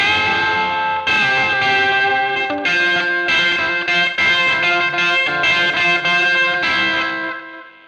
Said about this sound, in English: for a guitarist to have a delay that doesn't interfere with your original tone gives you some more harmonic sort of capability.